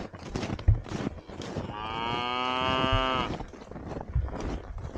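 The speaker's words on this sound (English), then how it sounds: "Got the whole cow herd." A herd of cattle out on winter grazing pasture lets out a long, loud, drawn-out moo with a rising and falling pitch, set against lower grunts and shuffling, and other cattle stir around it.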